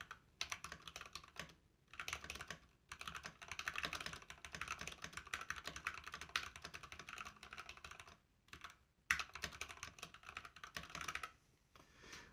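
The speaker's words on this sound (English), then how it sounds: "let's try this typing speed test and give you a listen" Rapid, steady keystrokes on a YUNZII x Skyloong AK84 mechanical keyboard with yellow switches clatter in bursts with brief pauses, muted and fairly close.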